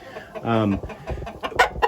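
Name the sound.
chickens clucking in a barn pen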